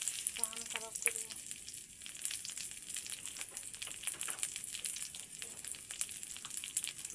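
Cashews, raisins and walnuts frying together in a pan give a continuous close sizzle with occasional stirring scrapes, steady and fairly quiet throughout, with no talk.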